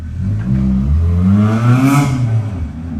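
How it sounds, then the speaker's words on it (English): An old, rattly car revs hard up close, its engine note climbing and falling with a clattering, loose-sounding edge throughout, with no one talking. "Here's the car."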